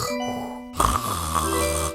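A woman imitates snoring with her voice, giving a single drawn-out nasal snort, close and alone, with a soft tonal hum underneath.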